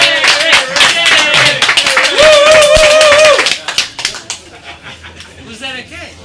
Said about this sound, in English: Would everyone just clap for Derek